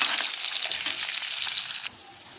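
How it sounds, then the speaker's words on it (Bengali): Potatoes sizzle steadily in hot oil with a dense crackling hiss, close and loud, easing slightly near the end; no voices. "আলুটা অল্প ভেজে তারপর বেগুনটা ছেড়ে দেবো"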